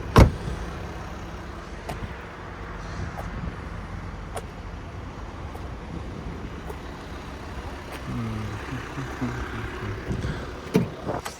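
A parked used car with low mileage idles steadily, a close, even engine hum that runs throughout, with a few faint clicks and a brief low rumble near the end.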